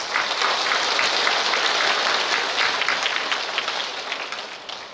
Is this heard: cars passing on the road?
no